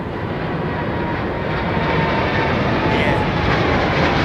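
A departing airliner roars steadily at London Heathrow Airport, its broad engine rumble and hiss filling the air at high level throughout and swelling slightly toward the end, while a voice talks faintly beneath it.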